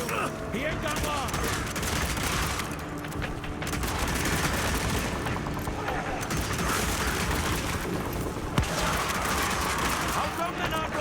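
Gunfire in the video game Evil West crackles without a break over a dense battle din, with one sharp shot standing out near the end.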